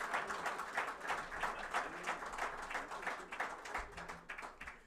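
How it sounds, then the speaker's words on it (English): Audience applause at an awards ceremony for a digital transformation challenge, steady dense clapping from a crowd, fairly distant and soft, with no voices over it. "Can we get another round of applause for Mr. Gulston, please?"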